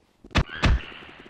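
In the video game Rec Room, a gravity gun flings an object, producing two heavy hollow thunks in quick succession with a faint whirring tail after them.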